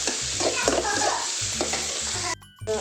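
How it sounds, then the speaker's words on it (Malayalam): Onions and tomatoes sauté in a pan for a sardine curry, with a steady close sizzle. A spatula stirs and scrapes in uneven strokes, and the sound drops away briefly near the end. "സവാളയും തക്കാളിയും ഒക്കെ നന്നായിട്ടൊന്ന് പച്ചമണം മാറുന്നത് വരെ ഒന്ന് നന്നായിട്ട് വഴറ്റിയെടുക്കുക"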